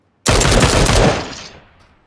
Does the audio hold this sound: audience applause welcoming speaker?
no